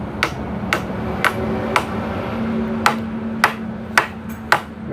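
Sharp hammer blows strike wood in an uneven rhythm, about nine knocks over a steady low background hum, fairly close, while building a chicken coop.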